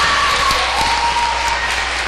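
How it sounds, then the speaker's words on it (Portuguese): A church congregation applauds steadily during a worship service, a dense, sustained clatter of many hands filling the room without pause. "aplauda o Senhor."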